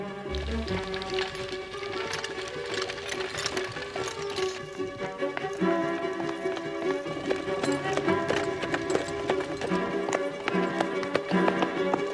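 Horse hooves clip-clop in a steady rhythm beneath a swelling orchestral score, the hoofbeats fairly close and partly buried by the music.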